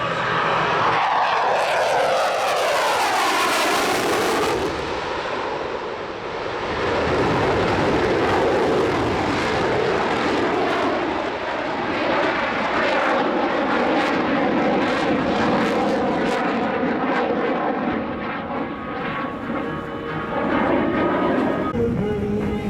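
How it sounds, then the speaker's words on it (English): A jet aircraft flying a max-performance, full-afterburner circuit at the 2009 Australian International Air Show: a loud, sustained roar that swells and shifts pitch as it passes, with a continuous rumbling tail. "In the overshoot for a max performance, max afterburner circuit."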